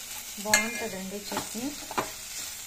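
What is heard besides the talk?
ridge gourd peel, bottle gourd and tomato frying in oil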